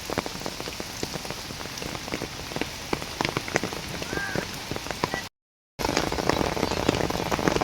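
Heavy rain pours steadily, close and loud, with sharp individual drops hitting a surface throughout and one brief cut to silence.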